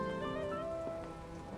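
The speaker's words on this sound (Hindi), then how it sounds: "बाहर जो इतनी बारिश हो रही है" Heavy rain pours outside in a steady, close, unbroken hiss at an even level, with sustained tones layered over the downpour and no voices.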